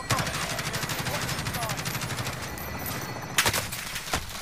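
Rapid automatic gunfire from Call of Duty: Warzone (Modern Warfare, Plunder mode) crackles steadily for about three seconds, followed by a couple of sharper, louder shots and a softer crack near the end.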